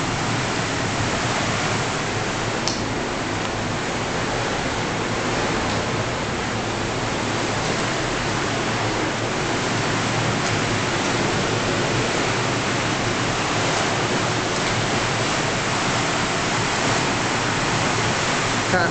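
A river carrying sewage rushes past in a constant, loud, broadband roar of flowing water that holds steady throughout with no talking.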